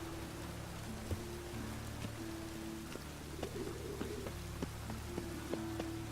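Steady rain patters over a city in The Witcher 3, a soft, continuous hiss with occasional louder drops, faint and even with no voices.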